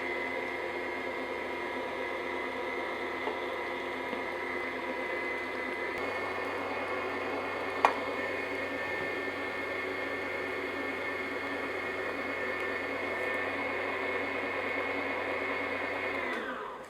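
An electric stand mixer with a paddle attachment runs on low speed, beating eggs one at a time into Basque cheesecake batter, a steady close motor whir holding for about sixteen seconds before stopping, with a single brief click midway.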